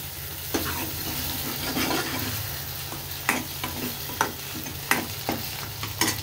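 Eggs and rice stirred and frying in a pan, a soft continuous sizzle under repeated scraping stirs of the spatula, close and fairly quiet.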